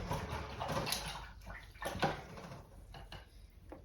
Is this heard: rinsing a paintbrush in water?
yes